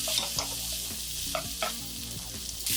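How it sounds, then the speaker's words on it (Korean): Shin Ramyun noodles stir-fried in a pan with olive oil and bacon, a steady close sizzle and frying hiss with occasional stirring scrapes and clinks, no talking. "이제 도마가 삶아뒀던 신라면에 면을 넣고 살짝 볶아줄 거예요"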